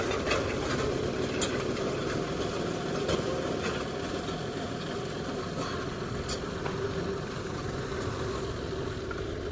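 A diesel tractor engine runs in a farm field, a steady low rumbling drone that holds evenly throughout, with faint scattered knocks and clatter over it.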